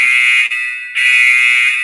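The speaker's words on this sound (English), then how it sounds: "Sometimes when I think, sometimes when I think, an alarm goes off." An alarm goes off with a loud, piercing electronic tone that holds steady and cuts out briefly twice before sounding again, close and with no voices.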